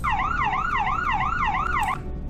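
The second siren of a game police car, a 2020 Chevy Tahoe Sheriff, is a fast, loud yelp that sweeps up and down about five times in quick rhythm. It sounds close and alone, then cuts off.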